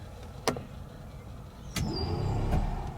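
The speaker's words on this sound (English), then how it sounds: "That's the car leveling itself out again." Self-leveling suspension on a white and green 1956 Packard Four Hundred hardtop adjusting itself: sharp clicks followed by a low, steady motor hum, heard up close inside the car with no talking.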